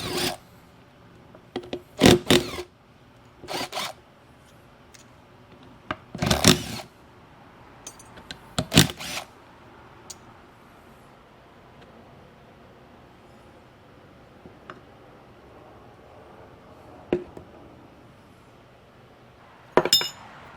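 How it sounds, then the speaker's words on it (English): Bolts come off the top of an oil pump on a Ford FE 360 big block: scattered sharp metallic clinks and taps, close and irregular, separated by quiet pauses. "I'm gonna actually pull the bolts off of the top of this oil pump"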